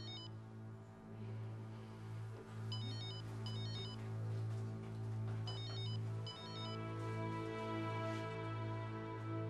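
A mobile phone ringtone plays a looping melodic tune with repeated bright beeping phrases, steady and fairly loud with no one talking.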